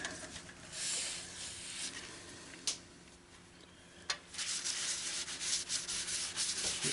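Sanding a wooden bowl filled with epoxy on a lathe, a steady abrasive rubbing hiss that swells and eases, broken by a couple of sharp knocks, with no talking.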